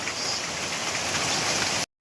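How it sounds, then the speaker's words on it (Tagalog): Heavy rain pouring down outdoors near a river, a dense, loud, steady hiss of drops that cuts off abruptly near the end. "Naligo na lang kami ng ulan."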